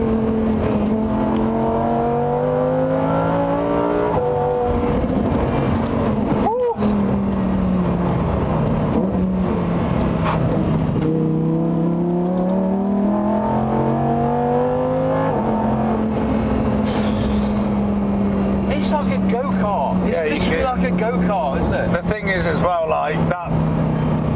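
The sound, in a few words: Lamborghini Huracán Performante engine revving while driving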